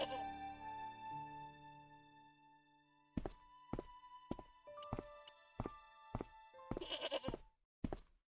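Goat bleats in the point-and-click game Broken Sword, set at a farmyard with the animal tethered by a tangled rope to an old plowshare; a few wavering calls ring out among scattered thunks and knocks of footsteps.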